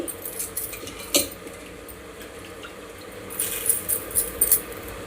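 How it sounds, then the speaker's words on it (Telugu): Rice being stirred and fried in a pan for methi pulao, with soft scraping and light metallic clinks of a spoon against the pan, sparse and fairly quiet, a few sharper taps near the end. "రైస్ అంతా వేసేసుకొని రైస్లో చెమ్మపోయేంత వరకు కాసేపు వేపుకోవాలండి రైస్ని"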